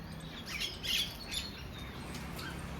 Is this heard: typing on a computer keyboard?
no